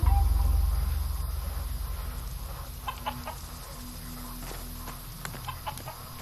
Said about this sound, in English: Kick a chicken.